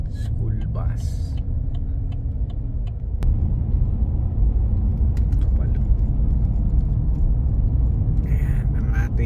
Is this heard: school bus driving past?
yes